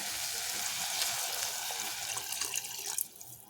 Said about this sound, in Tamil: இப்போ நம்ம தண்ணியை சேர்த்துக்கலாம்